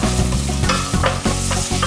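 Vegetables sweating in olive oil in a pan for a shellfish ragout, a loud, close, dense sizzle with spoon scrapes and stirring, no talk.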